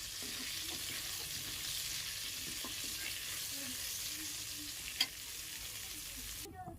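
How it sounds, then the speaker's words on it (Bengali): Garam masala spices sizzling steadily in hot oil over a medium flame for a chicken masala, with soft scraping as a spoon stirs them, close and continuous without talk. "যতক্ষণ না গরম মশলা এইসব মশলাগুলোর সুন্দর একটা গন্ধ বেরোচ্ছে ততক্ষণ কিন্তু আমি এটাকে নাড়তে থাকবো মিডিয়াম ফ্লেমেই থাকবে"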